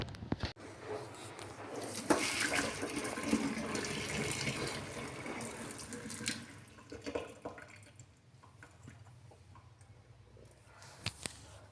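Boiled corn being strained in a kitchen sink, water pouring and splashing loudly for several seconds before thinning out to scattered drips and faint clatter.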